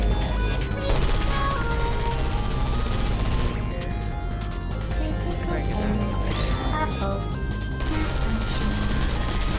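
Dense bursts of turret gunfire fill Portal 2 test chambers, a loud continuous rattle of rapid shots with crashing impacts and brief electronic chirps.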